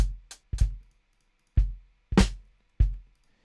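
Five separate snare drum sample hits, with a boosted attack and reduced sustain, giving sharp attacks and short decays, played alone in a loose, uneven pattern with silence between strikes.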